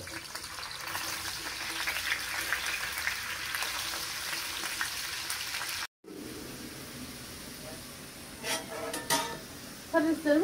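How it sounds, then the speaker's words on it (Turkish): Potatoes frying in hot oil give a steady, close broadband sizzle for several seconds, broken by a brief silent cut, then continuing more softly with clinks of utensils against the pan. "Şöyle patateslerimi de dökeyim."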